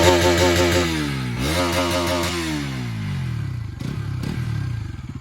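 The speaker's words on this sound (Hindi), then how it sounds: "तो ये इसका एग्जॉस्ट नोट सुनिए गाइज।" A Bajaj Pulsar NS200 motorcycle exhaust, BS6 and BS7 versions, revs up and drops back in repeated blips with rough, throaty harmonics, close and loud, ending in a lower idle rumble.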